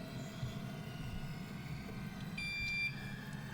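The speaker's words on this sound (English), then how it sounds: "On the buzzer is Adarsh." A quiz buzzer at the Tata Crucible Campus Quiz 2024 Uttarakhand cluster final sounds once as a short, clear electronic tone over a quiet, faintly humming hall.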